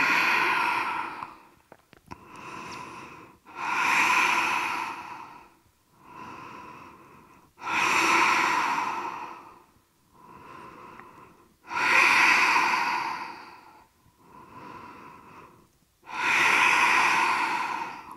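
Slow, deep breathing during an Ashtanga yoga practice, with long audible inhales and exhales alternating in a steady rhythm, close and fairly loud with a soft nasal rasp, no talk.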